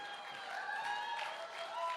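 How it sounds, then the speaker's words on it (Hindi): Audience applause in a motivational success seminar hall, a steady wash of clapping from a crowd, moderately distant and continuous for the whole stretch with no clear voices over it. "और आप लोग क्या तालियां बजा रहे हो?"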